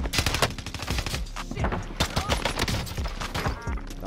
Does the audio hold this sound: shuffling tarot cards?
no